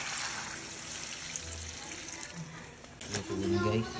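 Water runs steadily from a tap, a soft continuous trickle and splash with a faint clunk near the end.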